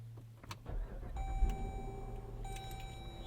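A 2022 Dodge Durango R/T V8 cranks and fires up with a low rumble settling into idle, close by inside the cabin, accompanied by chime tones from the dashboard.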